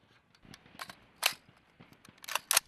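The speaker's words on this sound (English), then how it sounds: "Reload with a new source of ammunition." Rifle reloaded with fresh ammunition during Marine Corps recruit weapons handling drill at Parris Island: a string of sharp metallic clicks and clacks, with louder snaps near the end, heard up close with no talking.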